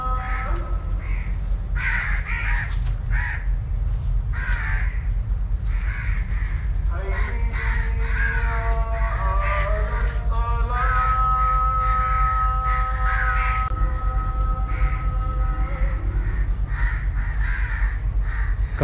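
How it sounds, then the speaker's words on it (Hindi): Crows caw repeatedly from trees at a quiet railway station between Kamoke and Gujranwala, harsh calls layered over a steady low rumble and a sustained tonal hum that rises partway through. "परिंदों की आवाज़ें आप सुन रहे होंगे जी"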